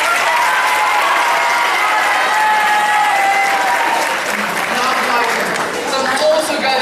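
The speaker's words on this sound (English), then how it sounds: "Can I get a round of applause?" A talent show audience breaks into sustained applause, a dense, steady wash of clapping from a sizable crowd that holds at full strength for several seconds and dips only slightly near the end.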